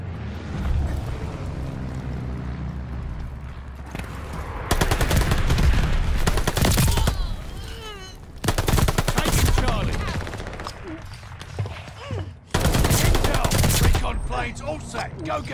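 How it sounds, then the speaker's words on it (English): Call of Duty: Vanguard multiplayer match with an Allied bombing run: loud bursts of rapid gunfire and heavy blasts arrive in several dense surges, with battle noise steady underneath and brief voice callouts mixed in. "Allies pulled a bombing run."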